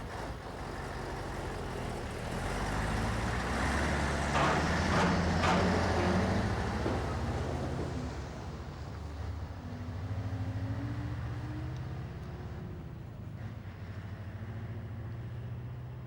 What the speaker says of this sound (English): most lorries don't use petrol to make them go.